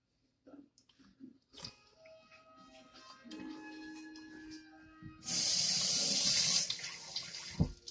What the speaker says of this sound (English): Let me rinse this off before I put it on my clean plate.